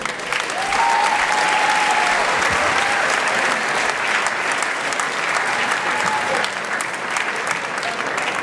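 An audience at a secondary school's humanitarian concert in Zadar breaks into loud, sustained applause, dense clapping that swells quickly and holds evenly for several seconds.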